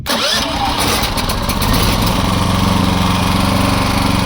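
A small inverter generator starts with a brief pull and then settles into a steady, fairly quiet running hum, heard close by and alone with no talk.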